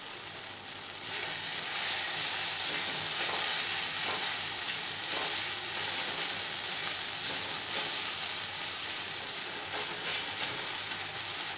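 Onion and tomato fry with salt in a pan, giving a loud continuous sizzle with faint stirring scrapes throughout and no talking.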